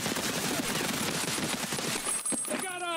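Rapid automatic gunfire in a video game, a dense sustained burst of shots running almost the whole way, loud and close, with faint talk behind it and a few electronic tones near the end.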